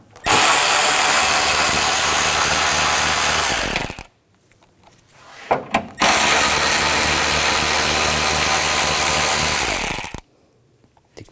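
Loud, close powered driving of 10 mm bolts on a Hummer H3 with a socket, two long steady whirring runs of about four seconds each, separated by a short quiet gap with a few clunks.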